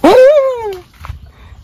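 A single drawn-out dog whine or yelp, loud and close, sliding downward in pitch before fading to quiet background noise.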